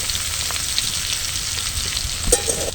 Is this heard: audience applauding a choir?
no